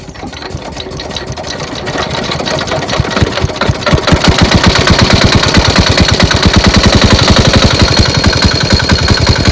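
A machine engine at a village pond in the Sundarbans starts up and settles into a loud, steady, rapid chugging idle, its pulsing rhythm growing fuller and more regular after the first few seconds.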